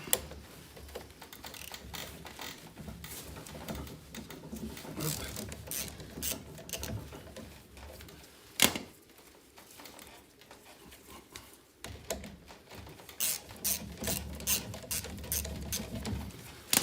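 A wrench works an 11 mm nut loose on the steering of a Citroën 2CV, producing repeated close ratcheting clicks and scraping metal taps, with a brief louder clank partway through.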